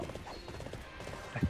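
Many horses charging at once in the video game Arslan: The Warriors of Legend, a dense clatter of hooves under battle noise, moderate and continuous, with a louder thump near the end.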